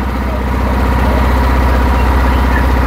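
A boat engine idles on the Turag river at Birulia, Savar, a steady low, even rumble that holds close and loud throughout without a break.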